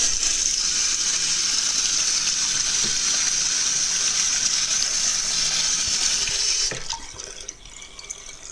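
Water runs steadily from a sink tap in a loud, even hiss and splash for several seconds before the flow cuts off and fades to quieter dripping.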